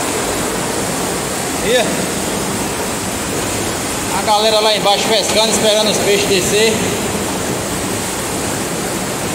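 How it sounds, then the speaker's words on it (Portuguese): Heavy rainwater rushes down the spillway of a dam in the Brejo region of Paraíba, a loud, steady roar throughout while someone talks close by over it. "agora eu tô aqui debaixo aqui do sangrador da barragem. Aí o volume de água."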